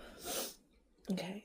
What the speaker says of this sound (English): Oh my God, I'm sneezing.